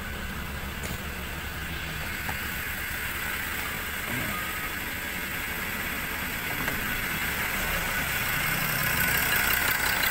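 A 2020 Ford Wildtrak engine idles with an even, quiet hum, a low and steady drone that grows slightly louder toward the end, heard alone.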